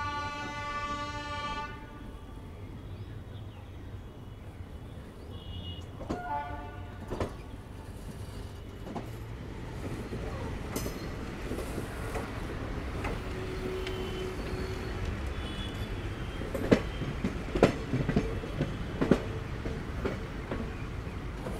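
Nautanwa Durg Express rolling through a big curve into Gorakhpur station, a steady rumble of wagons with a sustained horn blast at the start and a few sharper clanks and squeals later on.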